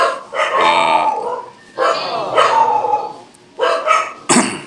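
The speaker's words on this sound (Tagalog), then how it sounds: "ingay itong aso na to." A dog barks loudly and close by in three bursts of several barks each, separated by short pauses.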